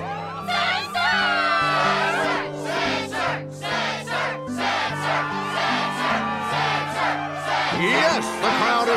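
A video-game crowd in Kingdom Hearts 2.5 cheers and shouts loudly and continuously before a Struggle match, with whoops and yells layered over steady game music.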